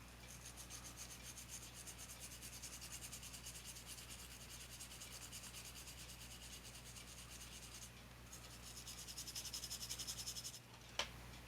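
A brass bristle brush scrubs the base of a Hot Wheels Redline Jack Rabbit die-cast car after a soak in Lime-Away, producing quiet, steady rapid rubbing strokes that continue for the whole stretch with a brief knock near the end.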